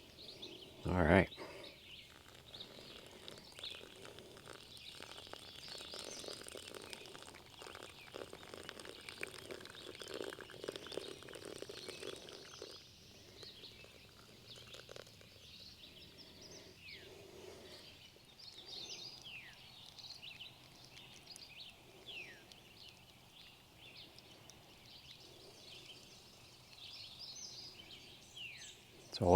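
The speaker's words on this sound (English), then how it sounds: "It's always nice hearing the birds sing in the morning." Morning birdsong at a kayak campsite: many faint chirps and short whistled calls scattered through the clip, some distant, over outdoor ambience with a loud knock near the start.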